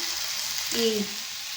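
Gongura (sorrel) leaves sautéing and wilting in a pan for a gongura chutney, giving a steady soft sizzle and frying hiss throughout, with a brief stirring scrape midway and no voices.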